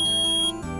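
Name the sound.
beep of call recording in Phoenix Wright video game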